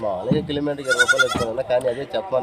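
Bleating from goats, kids and sheep at a village farm, a few wavering cries rising over a noisy background of nearby voices.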